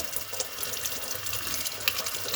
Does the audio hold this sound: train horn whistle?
no